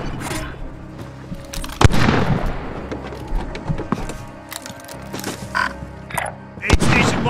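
Gunfire in the video game Call of Duty Warzone, scattered shots and a few sharp booms amid rustling game noise, with a player's voice talking over the action.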